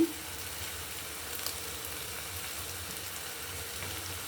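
Jaggery going into pumpkin halwa cooking in ghee, a steady soft sizzle and frying hiss held at a constant low level, fairly quiet and without voices.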